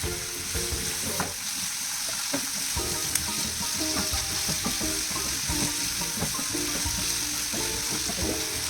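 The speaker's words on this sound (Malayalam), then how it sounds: "ജിഞ്ചർ ഗാർലിക് പേസ്റ്റ് ഇട്ട് എന്നിട്ട് ഉരുളക്കിഴങ്ങ് ഇടുക. ഉരുളക്കിഴങ്ങും പച്ചമുളകും" Ginger garlic paste, potatoes and green chilies fry in a pan for channa masala. A constant close sizzle is broken by frequent clinks and scrapes of stirring, with no talking.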